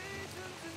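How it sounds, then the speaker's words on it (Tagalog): Rain falls as a soft, steady patter on a surface, faint and continuous with a light hiss and no other sounds. "pumapatak na yung ulan"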